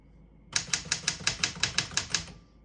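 A 1970 Smith-Corona Super Sterling portable typewriter hammers out about ten crisp, evenly spaced keystrokes, close and clear in a quiet room.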